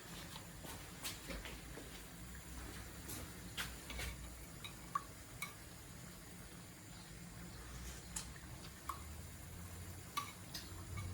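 Mutton chukka juices hit a hot pan, producing a faint, steady sizzle with scattered ticks, clicks and stirring taps, quiet and close with no speech.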